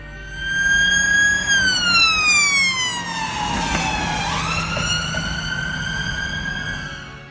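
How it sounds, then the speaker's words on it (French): An ambulance siren wails loudly as it approaches and passes, its pitch dropping sharply as it goes by, then continuing lower as it recedes, with no talk. "Quand une ambulance arrive vers vous, passe devant vous et s'éloigne ensuite de vous, le son semble d'abord plus aigu avant de devenir plus grave."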